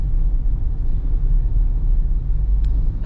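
Road traffic on Regalado Avenue in the evening, a continuous deep engine rumble of vehicles passing nearby, with a brief faint tick near the end.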